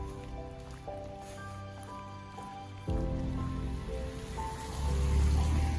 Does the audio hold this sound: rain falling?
yes